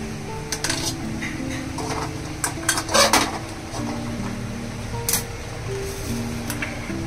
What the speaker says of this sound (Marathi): आता आपण मसाला आहे ना सगळा भाजून घेणार आहे।